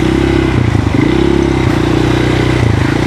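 Motorcycles and scooters ride through flood water on a bypass road, a loud, close, steady engine drone with some rising revs and water clatter, and no talk.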